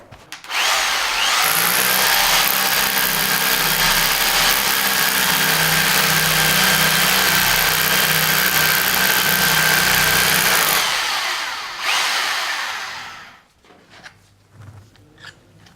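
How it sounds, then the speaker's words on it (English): A Ryobi three-mode SDS drill hammer-drills with a masonry bit, a loud, close, continuous buzzing grind for about ten seconds before spinning down, followed by quiet handling clicks. "Now, we're hammer drilling, that's a masonry bit"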